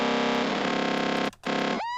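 A sampler texture in Bitwig frozen into a sustained, buzzing, harmonically dense drone that holds steady, cuts out briefly, returns, then resolves into a cleaner pitched tone, loud and electronic with no voices.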